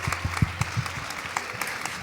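Brief burst of audience applause at a Christian women's conference, a small crowd clapping in an uneven patter of sharp claps heard alone.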